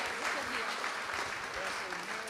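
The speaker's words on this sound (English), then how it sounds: "give them a big hand of applause" Audience applauding panel speakers at a talk on maximalism, a steady wash of clapping from a seated crowd that fills the whole stretch at moderate loudness, with some voices mixed in.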